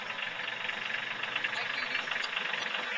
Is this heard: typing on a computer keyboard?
no